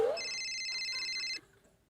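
A phone rings with a short burst of bright electronic tones for about a second, then cuts off, leaving quiet room noise.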